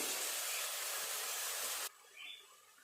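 Water poured onto spices and ginger-garlic-tomato paste in a hot pan hisses loudly as a broad, steady steam sizzle for nearly two seconds, then cuts off abruptly, leaving a faint brief hiss.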